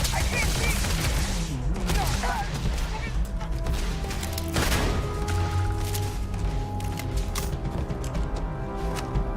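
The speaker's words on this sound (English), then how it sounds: "They're really liking these grenades." Dense gunfire bursts and heavy explosions from grenades crash together in a frantic Starfield firefight, loud and continuous, with sharp impacts and a big blast about midway.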